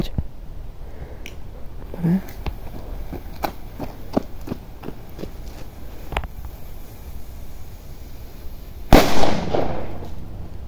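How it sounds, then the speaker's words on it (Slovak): Several sharp cracks from a small firecracker rated about half a gram, set off outdoors, followed by a louder, fuller bang with a brief rumbling tail near the end. "ale nie je to zlá petarda Viper 1, takže poďme na to"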